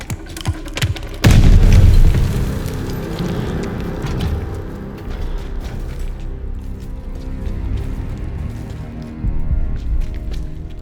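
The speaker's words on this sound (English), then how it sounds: "Grenade! Get down!" A grenade blows up in a Call of Duty Vanguard battle, one heavy, close boom with a deep low rumble that fades over several seconds amid ongoing combat noise.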